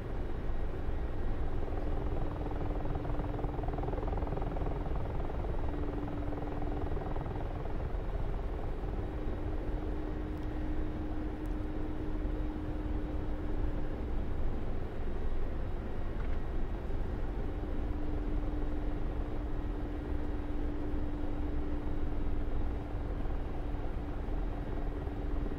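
Mi-24 attack helicopter in the DCS flight simulator settling in for a shallow-approach landing, its rotor and turbine drone steady and continuous at close range, with a constant whine and no voices over it.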